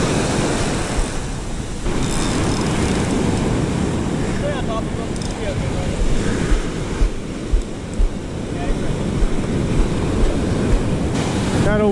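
Ocean surf rolls and breaks continuously along a Florida beach, a steady broadband wash with wind buffeting the microphone and occasional louder surges, while people call out briefly over the noise.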